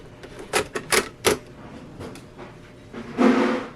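Sharp plastic clicks and clatter as a cassette tape is pushed into a Brookstone AM FM cassette clock radio, a quick burst of knocks followed by a louder mechanical rustle as the deck takes the tape.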